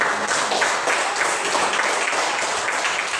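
Classroom students applaud three classmates who answered a fraction-addition question, a steady dense patter of many hands clapping that stays even and fairly loud throughout with no talk over it.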